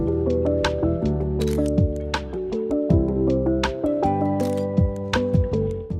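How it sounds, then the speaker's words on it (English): Camera shutter clicks and whirring snaps punctuate a layered musical track, recurring in a rhythmic pattern over sustained tones. "The song, to no surprise, uses camera sounds."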